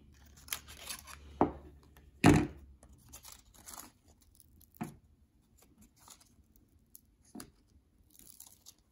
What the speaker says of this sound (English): I'm trying to get this tape off.